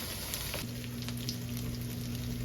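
Potato-crusted salmon fries in a pan on high heat, giving a loud, constant sizzle with crackling spatter and a low steady hum underneath.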